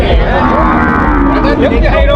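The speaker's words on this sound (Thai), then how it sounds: "นี่วัวสาว" A young cow moos steadily at a Thai cattle and buffalo market in Som Poi Noi, a loud, close, drawn-out low call filling the whole moment against a busy market background.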